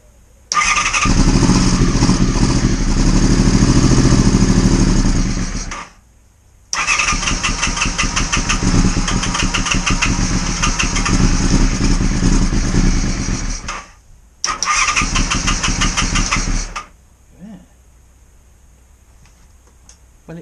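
A Honda VFR400 motorcycle, long stood unused and infested with spiders, starts and runs in three loud, close stretches of rough engine revving, each cut off before dying back to quiet.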